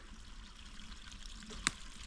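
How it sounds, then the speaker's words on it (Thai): A small natural stream in a forest trickles and burbles softly and steadily, a gentle close flow with one brief sharp click near the end, with no voices. "นี่ก็จะเป็นลำธารเล็ก ๆ เป็นลำธารธรรมชาตินะคะ"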